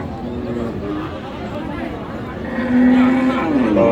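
Cattle lowing at Aftabganj cattle market, where cows and heifers are sold; a long, loud moo rises near the end over a steady hum of crowd chatter and market noise.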